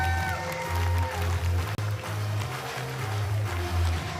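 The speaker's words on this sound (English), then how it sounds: "You can hear this crowd, they're loving it." Crowd cheering at a U-23 European Championship baseball gold medal game between Czechia and Great Britain, a steady roar of voices with rhythmic chanting rising and falling, with a commentator speaking over it.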